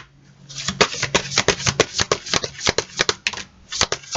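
Fairy oracle cards being shuffled by hand, a rapid run of crisp flicking riffles and slaps, close and fairly loud, continuing steadily with no talk.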